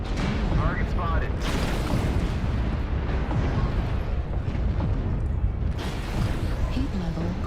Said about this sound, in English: Airstrike. Target spotted.